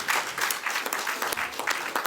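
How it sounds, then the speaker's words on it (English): An audience at a press conference applauds loudly and steadily, a dense close wash of clapping that carries on without a break. "please give another round of applause to Bobby DiCello"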